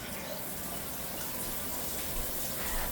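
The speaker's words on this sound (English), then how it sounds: "I will add a little water to that." Water pours from a jar into a pot of sauce while making yuca pie, a steady, even gushing and splashing that runs continuously at moderate loudness.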